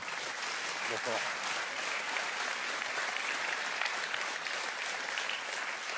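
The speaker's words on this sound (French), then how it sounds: "Sous vos applaudissements." Steady, sustained applause from an audience fills the whole stretch, dense and even without pause, with a brief voice faintly underneath.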